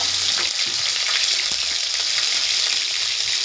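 Ginger paste sizzles steadily in hot oil with chillies and five-spice, a loud, dense frying hiss that runs without a break, with a few faint scrapes under it.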